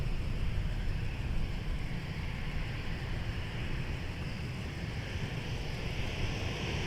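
An airliner taking off from runway 17 at Minneapolis–Saint Paul airport, a steady, distant broadband jet roar with wind noise, sustained and fairly faint, with no voices.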